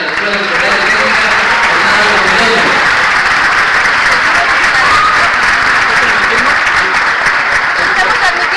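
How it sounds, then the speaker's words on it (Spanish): Loud, sustained applause from a large crowd, steady and dense throughout with no pauses. "vamos a darles un aplauso a todos los directores"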